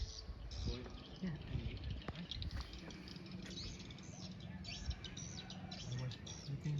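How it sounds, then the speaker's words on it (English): Swiftlets at a bird-nest farm in Cambodia give repeated high chirps and twitters that run steadily through the clip under ongoing talk and background noise. "For the swallow bird."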